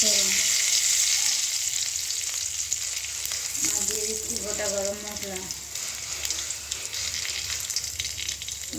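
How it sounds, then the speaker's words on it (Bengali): Dried red chillies and a bay leaf fry in hot oil, giving a continuous loud hiss and crackle with a brief spurt of bubbling in the middle; no voices. "তেলটি গরম হয়ে আসছে এবার দিয়ে দেবো শুকনো লঙ্কা একটু তেজপাতা"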